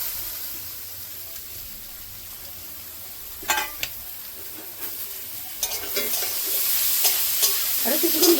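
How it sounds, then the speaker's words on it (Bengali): Paneer frying in a pan with spices, a soft continuous sizzle with a few stirring scrapes in the middle, building to a louder, busier frying hiss near the end. "আরো কিছুক্ষণ ভেজে নেব।"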